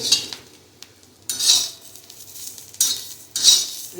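Green chillies and cumin being stirred and roasted in a pan, with bursts of metal spoon scraping and clinking against the pan at intervals over a faint background.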